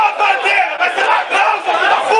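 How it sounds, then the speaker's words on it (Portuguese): A large crowd of Tirense fans at a football match roars and chants loudly and continuously, a dense wall of voices rising and falling in waves. "Torcida do Tirense vai à loucura aqui"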